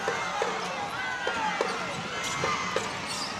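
Crowd noise at a FIBA Women's AmeriCup basketball game between Puerto Rico and Canada, a steady arena roar with scattered squeaks and ball bounces, under continuous commentary.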